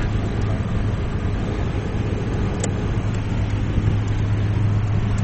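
Steady, loud engine drone from an Audi A3 held at about 3000 rpm, a constant broadband roar with a low hum and no breaks, without talk.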